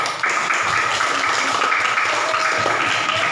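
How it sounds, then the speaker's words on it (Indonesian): Students in a classroom clap for group number 1 after their answer: a dense, even wash of many hands clapping throughout, moderately loud with a faint hum beneath. "Beri tepuk tangan untuk nomor 1"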